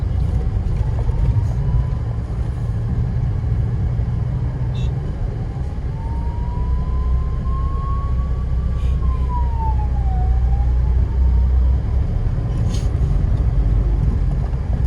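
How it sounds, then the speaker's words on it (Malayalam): An ambulance siren wails, rising and falling over constant traffic rumble, growing louder toward the middle and then fading as it passes by. "പുറകിൽ ആംബുലൻസ് വരുന്നുണ്ട്."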